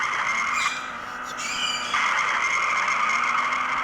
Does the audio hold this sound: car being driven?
yes